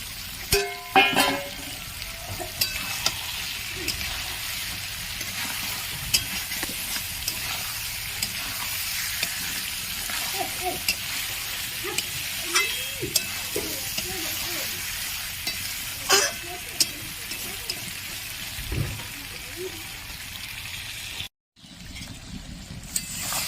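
Fried potatoes stirred into a sizzling pan of mutton curry, a continuous close hiss with frequent scraping and clanking stir strokes, briefly cutting out near the end.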